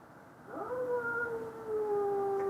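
A cat lets out a long, drawn-out howl that rises and holds a wavering pitch, loud and close, repeated once more without pause.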